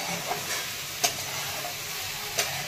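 Fenugreek (methi) leaves stir-fry in oil in a pan, giving a soft continuous sizzle broken by a few faint scraping strokes of the spatula.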